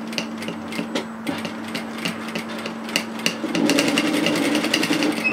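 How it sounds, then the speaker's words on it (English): A sewing machine edge stitches a rolled placket on a shacket, with light taps and handling first, then a steady close whirring run of stitching. "I'm going to edge stitch this into place"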